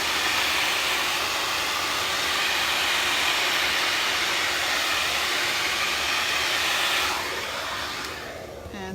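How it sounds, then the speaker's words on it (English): A blow dryer runs steadily at close range over a watercolor painting, a loud continuous broadband whoosh lasting most of the clip before tapering off near the end. "So don't mind my blow dryer noise."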